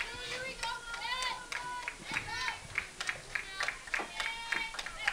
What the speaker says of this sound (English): URI bench cheering on Klepchik